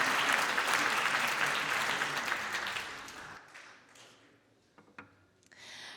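A theatre audience breaks into loud, dense applause that holds steady for about three seconds, then fades quickly to scattered claps and near silence.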